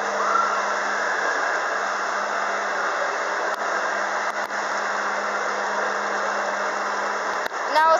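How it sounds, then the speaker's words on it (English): A KONE or OTIS escalator motor at a large shopping mall runs with a loud, steady mechanical drone and a low hum, accompanied by a few faint clicks. "I can hear that motor. That's a loud motor."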